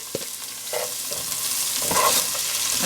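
Ingredients for a Kenyan coconut curry dumped into a hot pan on a stove at medium-high heat, a few clunks followed by a rising, steady sizzle that fills the space, no talking.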